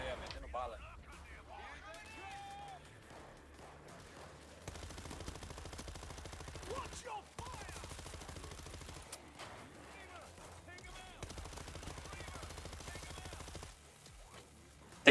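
Rapid bursts of automatic gunfire from a robot companion in the zombie shooter World War Z, coming in several sustained stretches of dense rattling shots, with other gameplay sounds and a voice talking in between.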